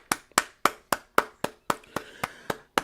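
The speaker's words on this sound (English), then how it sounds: "Let's give them a round of applause." Round of applause given by a few people: about ten sharp, close hand claps in an even rhythm, each one distinct and ringing briefly, with no talking.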